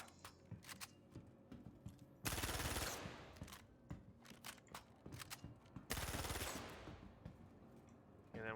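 Gun firing in Star Citizen, rapid bursts of automatic shots in two long sustained volleys separated by scattered single cracks and clicks, fairly faint overall with no speech.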